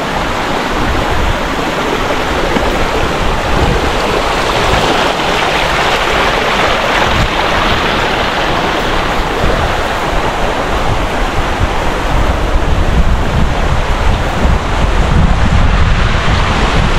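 Busay Falls in Pioduran, Albay roars as a steady, loud wash of falling water, a dense unbroken rush with wind buffeting the microphone and no voices.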